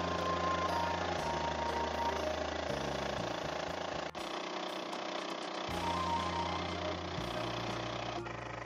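Boat outboard motors run steadily while cruising on calm water, a continuous loud low engine drone whose pitch shifts a few times, with a sharp knock partway through.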